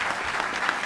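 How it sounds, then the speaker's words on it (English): Audience applause at a mayoral press event on a Philadelphia arena agreement, a dense, even wash of clapping from a crowd, steady throughout a brief moment. "Give them a round of applause,"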